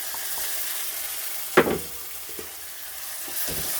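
Ground tomato puree goes into a hot pan with spices, producing a soft, steady sizzle with a sudden louder splash and hiss near the middle, then a few light stirring scrapes.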